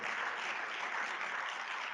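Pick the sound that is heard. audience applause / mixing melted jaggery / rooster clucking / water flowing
audience applause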